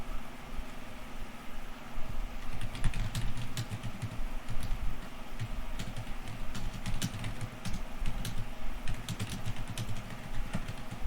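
Keystrokes on a computer keyboard while code is typed, soft irregular clicks in quick bursts over a low hum, fairly faint and close.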